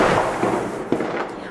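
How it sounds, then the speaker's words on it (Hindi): Diwali fireworks and firecrackers crackle and pop in a dense, continuous wash outdoors, with a few sharper bursts standing out from the rumbling background. "खूब पटाखे चल रहे हैं"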